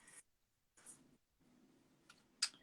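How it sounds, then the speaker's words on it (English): Quiet riffle shuffling of a girlfriend's deck of cards during a live reading, soft papery bursts separated by pauses with a sharper snap near the end, close and faint. "I'm still shuffling my girlfriend's deck"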